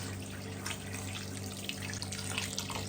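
Steady running mineral water splashes continuously into a cooking pot, a constant close-up gurgling stream with no voices.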